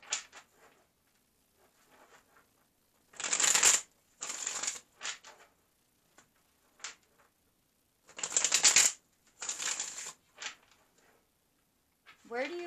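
Tarot cards being handled and shuffled, several short rustling bursts of cards sliding together separated by quiet pauses, close and fairly crisp.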